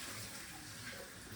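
Running water rinses a mushroom-stained cooking pan, a faint, brief splashing hiss with no voices.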